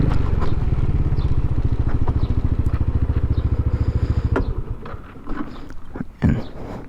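A 2019 Yamaha Nmax scooter engine idles close by with a fast, steady putter, then falls away into quieter rustling and wind noise near the end.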